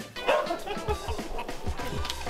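Dogs at a rural home shared with hundreds of animals give short yips and barks in quick bursts, fairly close, with whimpering mixed in and faint voices in the background.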